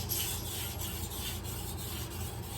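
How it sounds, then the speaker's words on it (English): Kitchen knife pushed along a sharpening stone at a shallow angle, giving a steady gritty rubbing rasp with faint repeated strokes, close and continuous with no talking. "at maybe about a 15 to 20 degree angle while I'm sharpening"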